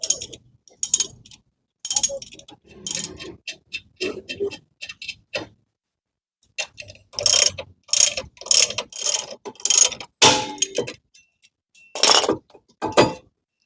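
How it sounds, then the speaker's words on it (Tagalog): A ratchet wrench loosening a bolt on the rear drum brake of a Mitsubishi Xpander, sharp clicking bursts in rapid runs with pauses between, close and crisp, a voice talking intermittently. "So tanggalin natin siya using this bolt."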